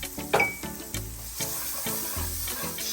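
Grated ginger, minced garlic, shallots and green onion sizzle softly in a pan as they are stirred, with a steady low hiss and a few brief scraping sounds.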